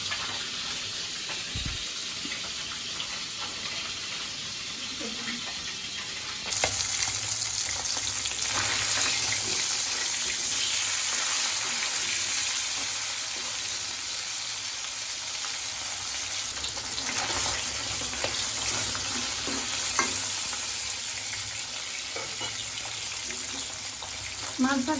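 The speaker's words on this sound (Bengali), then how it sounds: "মাছ ভাজা হয়ে গেছে, এখন তুলে নিব।" Taki fish frying in a pan for a village-style bhorta, a steady crackling sizzle that jumps louder partway through and holds on, with faint scraping and kitchen clatter beneath.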